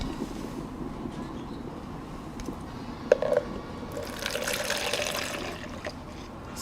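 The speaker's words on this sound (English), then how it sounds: "it looks like it's time for me to start preheating the teapot." Hot water is poured into a teapot to warm it before afternoon tea. The pour shows as a soft hiss that swells midway over a steady low background hum, with no talking.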